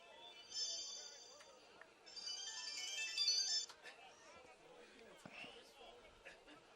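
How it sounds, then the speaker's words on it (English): A cell phone ringtone chimes in bright repeating bursts in the stands at a junior varsity high school football game, the tone sounding twice amid crowd hubbub and nearby talking. "I can't believe your phone went off."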